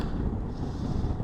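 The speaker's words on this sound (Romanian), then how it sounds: "Închid viziera că bate vântul iară." Wind buffets a motorcycle rider's helmet and microphone on a road trip through Czechia and Germany, producing a steady, dense roaring rush with low gusty rumble, loud and continuous with no talk.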